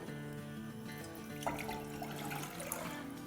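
Water pours into a cooking pot on a lit stove in a steady, bubbling stream, fairly close and alone, with a few splashy surges along the way.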